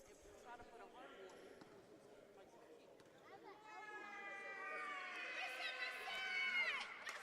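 Crowd at a men's college basketball game reacting to a missed free throw, basketball bouncing on a gym floor early, then voices swelling into rising shouts and cheers from the stands, with a commentator talking throughout.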